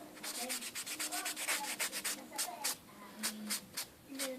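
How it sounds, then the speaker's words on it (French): A polishing block buffs a fingernail before UV gel is applied, giving quick, rhythmic rubbing strokes, close and soft, in a steady back-and-forth pattern with brief pauses. "un bon coup de bloc polissoir"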